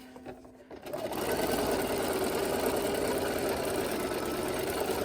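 A sewing machine runs steadily, stitching a narrow 1/8-inch casing along the raw edge of a fabric face mask with a filter pocket; a quiet start gives way to a continuous close whirring hum that holds to the end.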